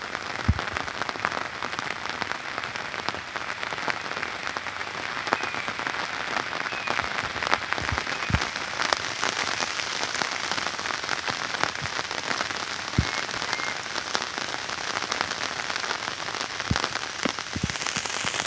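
Steady rain patters across a Konkan village near Ratnagiri in the evening, a continuous hiss of drops on surfaces with scattered sharper taps throughout and no talk.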